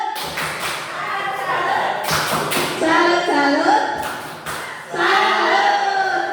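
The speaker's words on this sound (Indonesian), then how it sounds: "tepuk salut untuk Boeli. Tepuk salut." A group performing the 'tepuk salut' clapping routine in a positive-discipline class session, rhythmic bursts of claps and thumps in a patterned sequence, interleaved with people chanting and speaking.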